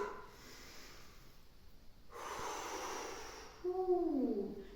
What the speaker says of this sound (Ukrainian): А зараз я хочу почути ваші носики та ваше дихання.